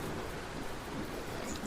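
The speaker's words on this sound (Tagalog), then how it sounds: "mukhang wala na pong planong tumigil ang ulan" Heavy rain during a flooding storm pours down in a constant broad wash of noise, fairly quiet and even, with no talking over it.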